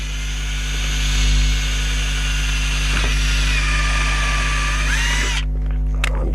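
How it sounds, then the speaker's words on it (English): A cordless power drill drives a screw into a garden planter, its motor whirring steadily and loud up close, then cutting off near the end with a few brief mechanical clicks. "back into screwdriver mode, and we'll pop a screw in there"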